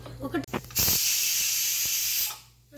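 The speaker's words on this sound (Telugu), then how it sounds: "ఇలా 1 విజిల్ వచ్చేసిందండి, ఇంకా ఆఫ్ చేసేయండి." A pressure cooker cooking tomato rice lets out one loud sustained steam whistle that fades out, preceded by brief kitchen clatter.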